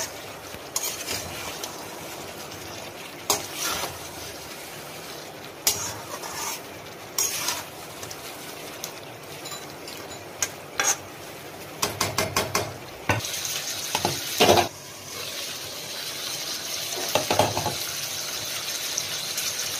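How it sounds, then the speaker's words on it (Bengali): Food frying in a pot on a medium gas flame, a low sizzle broken by bursts of stirring scrapes and clattering lid and utensil knocks, with no talk. "ঢাকাটা খুললাম, একবার নেড়ে দেবো।"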